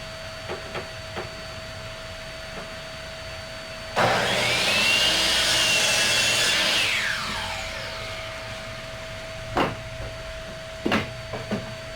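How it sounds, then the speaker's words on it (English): A miter saw cuts 45-degree angles in wood for a butterfly house, one loud spinning whine of a few seconds that fades, with a small vacuum humming steadily and a few clicks around it. "So we're gonna cut these 45s on the miter saw"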